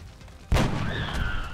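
A sniper rifle shot in the video game XCOM: Enemy Unknown, one sharp loud blast with a sustained rumbling tail and a rising tonal whine afterward.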